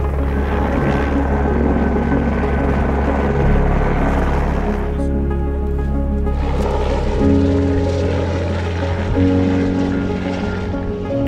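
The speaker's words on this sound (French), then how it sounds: "on utilise les services d'un hélicoptère pour nous faciliter la vie" A helicopter arriving: a steady, loud engine drone with low rotor throb fills the recording throughout, fairly close and continuous, with no talking.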